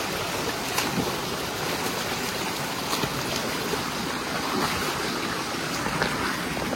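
Fast-flowing stream water near Nashik rushes steadily and loudly nearby, a continuous broad wash with no talking.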